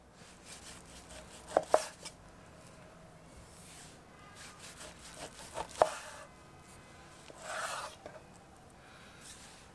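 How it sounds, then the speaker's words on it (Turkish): A knife slicing beef into thin pieces for a sandwich gives a few soft, scattered cuts with sharper clicks against the board, quiet and spaced apart, with no talk. "Etlerimizi bu şekilde ince ince kesmemiz gerekiyor."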